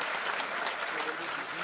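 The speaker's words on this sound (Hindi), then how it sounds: "अब तो आप तालियां बजा सकते हो दोस्तों" Audience applause at a poetry recitation, a short burst of many hands clapping at moderate level, slightly distant, with faint voices mixed in.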